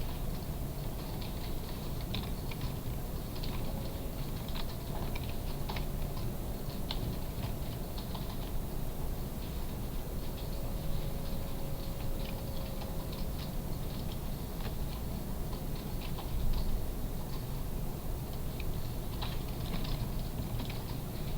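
Soft, steady computer keyboard typing and mouse clicks carry on for over twenty seconds, light and close against a low background hum, with no talking.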